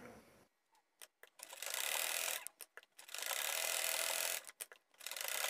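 A sewing machine stitching along the edge of a hijab, running in two sustained bursts of rapid whirring separated by quiet pauses and small clicks, with a third burst starting at the end.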